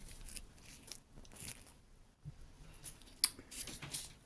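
Scissors snipping through a soft plant bulb while re-mossing a terrarium, a few quiet, scattered crisp cuts with one sharper snip near the end.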